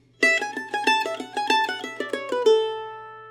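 Mandolin alone plays a short two-measure bluegrass tag lick, a quick run of a dozen or so evenly picked, bright plucked notes that ends on a single sustained note ringing out.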